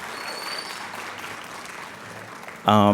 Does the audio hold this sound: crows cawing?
no